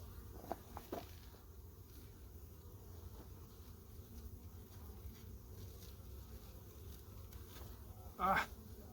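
Honey bees buzz faintly around an opened hive, with a few soft taps and a brief louder buzz passing close near the end.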